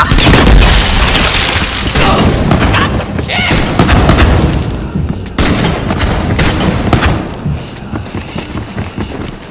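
Gunfire in the Borderlands 3 shooter, dense and loud, with booming shots and rapid bursts layered over one another throughout.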